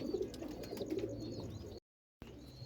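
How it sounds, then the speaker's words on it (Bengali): Old-breed pigeons coo steadily in a low, continuous murmur with faint higher chirps above, close by, broken by a brief moment of silence before the cooing resumes. "এটা পুরান পুরান কবুতর মাশাল্লাহ হ্যাঁ অনেক পুরাতন আমলের কবুতর"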